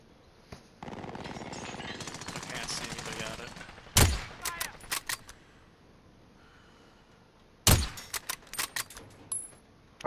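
Video game gunfire: two separate volleys of sharp, loud shots, each a strong crack followed by several quick follow-up rounds, with quieter game noise and a brief voice between them.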